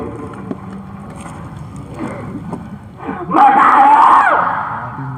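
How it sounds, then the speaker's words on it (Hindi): A man yells loudly at a spiritual gathering, building from murmured sound into a strained, sustained shout near the end, close and dominant. "तो यार इतनी जोर से क्यों चिल्ला रहा है?"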